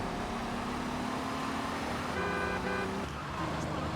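A car horn sounds once in GTA Vice City, a steady honk lasting under a second, over constant engine and traffic noise.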